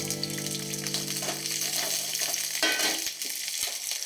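Oil bubbles and sizzles in a frying pan with a steady, close crackling hiss and faint pops, without speech.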